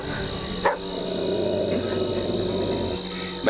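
Dogs bark and growl in a dramatic film scene, a low steady rumbling growl running throughout, broken by two sharp barks near the start and end.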